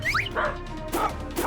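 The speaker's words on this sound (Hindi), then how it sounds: "कौन भौंक रहा है? Woof woof woof woof. हाँ, संदूक में एक पपी है।" A puppy shut inside a wooden chest gives several short, high yips and barks in quick succession, muffled but close.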